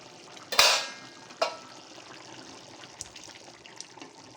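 A metal lid lifted off a cooking pot of ghugni, with a sharp clatter followed by a second lighter clink, then faint bubbling and small kitchen ticks.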